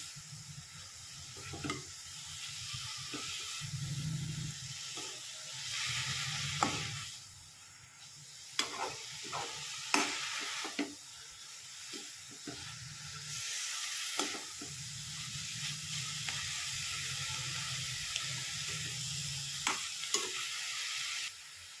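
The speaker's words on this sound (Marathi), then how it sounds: "छान मिक्स करून घेऊ भाजी आपण, नंतरच मीठ टाकायचं आहे आपल्याला।" A spoon stirs vegetable bhaji in a hot pan, a steady scraping and sizzling mix with repeated bursts of stirring and sharp clicks against the pan, close and continuous with no talk.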